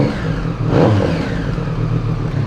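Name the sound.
Triumph Street Triple 765R revving, SC Project exhaust, dB killer in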